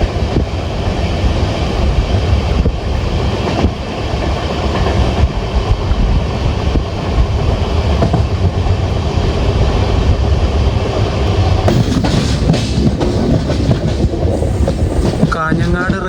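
The Amrit Bharat Express on the Mangaluru–Nagercoil run rolls slowly through Kanhangad railway station in northern Kerala without stopping, making a loud, continuous rumble with rhythmic clickety-clack of wheels on rail joints and no talk.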